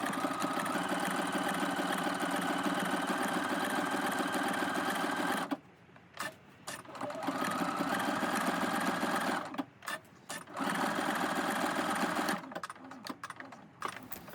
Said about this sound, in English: I thought I would do a really fun blanket stitch around the outside of the ladybug.